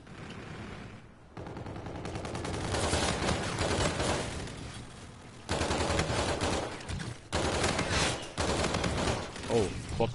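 Gunfire from a PS4 shooter plays in rapid, dense volleys almost the whole time, broken by a few short gaps, with players talking over it.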